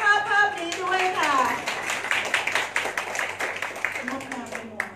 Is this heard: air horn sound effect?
no